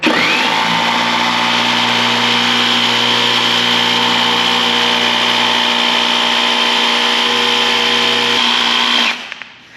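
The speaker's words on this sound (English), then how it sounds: "All right, let's cut that out. We'll use the old Milwaukee jigsaw." An old Milwaukee jigsaw runs at a steady high-pitched whine while cutting through metal for a mini gooseneck trailer, loud and close for about nine seconds before the motor winds down and stops.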